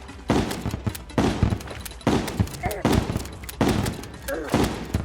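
The Minishark gun firing in the video game Terraria during a Queen Bee fight: repeated bursts of rapid, loud gunfire in a steady rhythm, with a voice talking over it.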